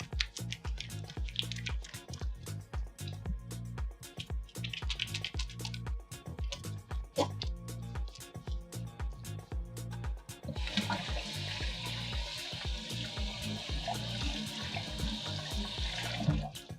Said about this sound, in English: I guess I'll properly wash my hands here.